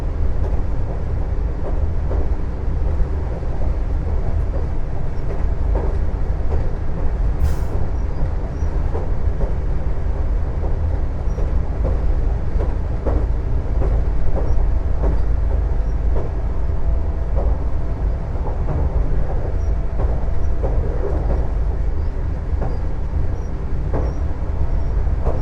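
A TER regional train runs between Beauvais and Le Tréport, heard from inside the driver's cab as a steady, loud rumble of wheels and motor, with rhythmic rail clicks and rattles throughout and no talking.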